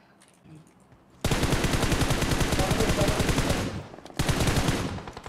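Sustained automatic gunfire from PUBG Mobile, loud and close, a rapid burst running about two and a half seconds, a short pause, then another burst; faint speech sits underneath.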